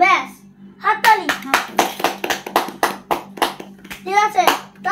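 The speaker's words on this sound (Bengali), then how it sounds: "ব্যাস, হাততালি।" Children in a music class clap in a rhythmic series of sharp, close claps, with young voices singing and speaking between and over the beats.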